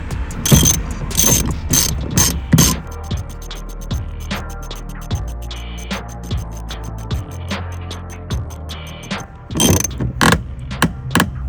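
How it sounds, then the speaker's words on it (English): A ratchet tool screwing a part into an Audi A3 8P, loud close rapid ratcheting clicks in bursts at the start and end with slower steady clicking between, no voices. "That just screws in on there."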